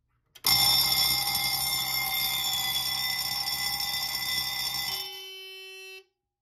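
A Simplex 4001C fire alarm panel sounds during a drill: a loud, steady electronic ringing tone starts abruptly and holds for about five seconds before cutting off, leaving a faint lingering tone that fades out.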